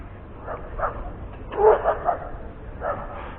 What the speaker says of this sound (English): Oh no, they brought a St. Bernard to the dog show.